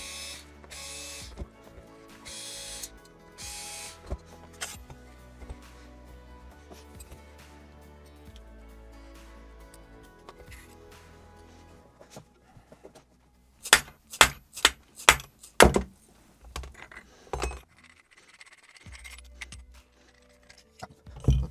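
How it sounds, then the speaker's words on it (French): Handguard coming off an airsoft Tokyo Marui MWS replica: scattered small mechanical clicks and rattles, then a cluster of sharp, loud plastic and metal snaps and knocks close up. "On va ôter le garde-main."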